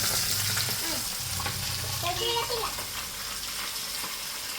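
Mackerel pieces crackle and sizzle steadily in hot oil, a loud continuous frying hiss with brief bubbling bursts and a person talking quietly over it.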